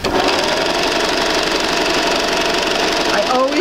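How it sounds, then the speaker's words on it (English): A sewing machine motor runs steadily and loud while stitching in reverse on a quilt sampler, a continuous mechanical hum filling the whole span with a faint voice underneath. "Hold the reverse, take a couple stitches back."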